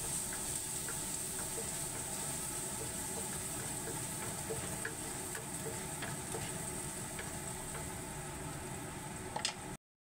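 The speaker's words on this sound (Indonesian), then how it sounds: "Saya tumis bawang putihnya dulu. Ditumis-tumis sampai harum ya" Garlic sautéing in heated oil for stir-fried green mustard greens, a faint even sizzle with light intermittent stirring taps, fairly quiet and steady throughout.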